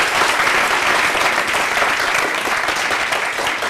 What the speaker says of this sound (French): il faut l'applaudir, s'il vous plaît